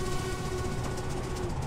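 An LMS Princess Royal Class steam locomotive in the Train Simulator game rumbles steadily with a continuous loud rolling drone and a faint sustained tone riding above it.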